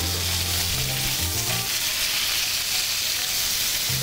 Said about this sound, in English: I'm taking the butter and the oil and I'm pouring it over the bacon to get the top cooking